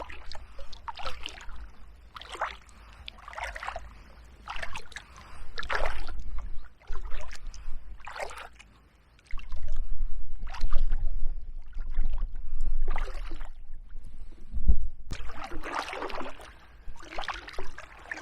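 A kayak paddled along the River Stour in Kent between Grove Ferry and Fordwich, with repeated close paddle strokes splashing and dripping in a steady rhythm against a low background rumble, and no talking.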